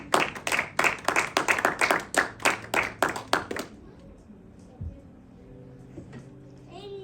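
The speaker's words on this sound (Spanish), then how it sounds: "Demos una ofrenda de aplausos al Rey." A church congregation claps in a fast, regular rhythm for about three and a half seconds, fairly close and loud, then stops abruptly, leaving quiet room tone with a soft voice or two afterward.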